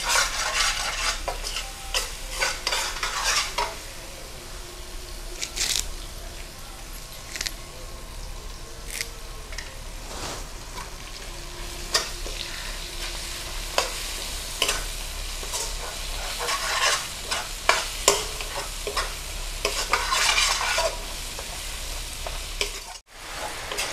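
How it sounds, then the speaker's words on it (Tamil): Curry leaves stir-fried with softened tomato and green chilli for a small-fish curry make a constant sizzle, broken by repeated scraping and clattering stirs of a spoon against the pan, close and fairly loud, with no speech. "இப்போ கருவேப்பிலையை போட்டுருவோம்."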